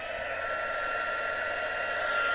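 A hair dryer blows steadily on a handmade craft piece, an even close whirring airflow that holds constant throughout with no voices.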